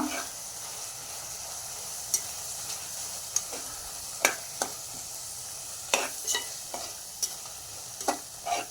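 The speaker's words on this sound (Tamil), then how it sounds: "அடுத்தது கேரட்டு, பீன்ஸ், பட்டாணியும் போட்டுக்கோங்க. ஒரு நல்லா 5 நிமிஷம் நல்லா வணக்கிக்கோங்க." Carrots, beans and peas sautéing in a pan for vegetable biryani, a steady low sizzle broken by sharp scrapes and clicks of a spoon stirring every second or so, close and fairly quiet.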